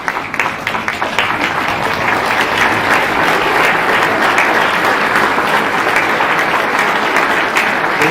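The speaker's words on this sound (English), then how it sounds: "give these young people a round of applause" A standing audience at a PV Foundation scholarship ceremony gives the young recipients a round of applause, which starts with a few scattered claps and builds into loud, sustained clapping that continues throughout.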